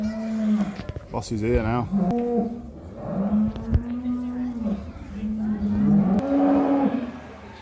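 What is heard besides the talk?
cows mooing at a farm show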